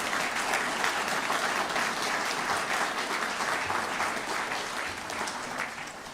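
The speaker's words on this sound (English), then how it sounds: "that's worth applause." A large audience claps steadily and densely at an economic development announcement, loud and sustained throughout with no voices over it.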